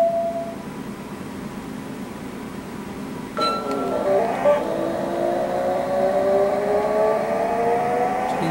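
Engines of race cars in a 3DO racing video game whine and rise in pitch as the cars pull away from the start, with layered tonal sweeps climbing over a steady hum.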